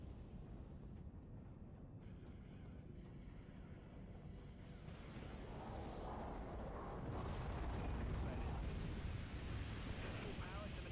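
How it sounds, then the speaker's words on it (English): Enemy missile explosions in The Outer Worlds: a deep, rumbling roar of blasts that swells louder midway and stays heavy and broad, with faint voices mixed in. "Enemy missiles incoming, Captain."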